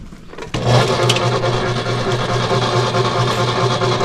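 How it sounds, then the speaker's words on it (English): A chicken plucker starts up on a homestead during a large poultry butchering and then runs steadily, a loud, even mechanical whir and rumble that holds without a break and with no talking over it. "And you put them in the plucker."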